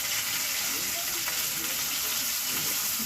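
Potatoes and tomato frying in a pan give a steady, close sizzle with a constant hiss that runs evenly throughout, with no voice clearly rising above it.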